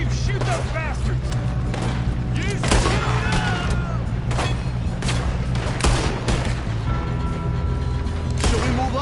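Gunfire in a Red Dead Redemption 2 shootout: loud repeated shots and booming reports scattered irregularly, some near and sharp, others echoing, over a dense noisy background with voices talking.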